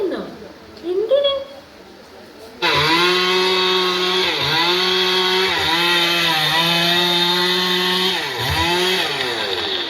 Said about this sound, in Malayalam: ഇന്നാണ് നമ്മുടെ പറമ്പിലെ മരങ്ങളെല്ലാം മുറിക്കുന്നത്